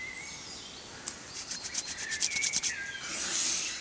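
Elder plant leaves are rubbed between the hands outdoors in a quick series of soft, brushy rustles lasting a couple of seconds, close and fairly faint, with birds chirping in the background.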